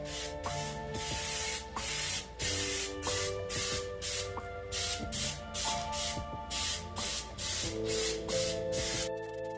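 Bursts of Raptor Liner bed-liner coating sprayed onto a Subaru WRX, about fifteen loud hissing blasts of roughly half a second each in a steady rhythm, with an air compressor humming underneath throughout.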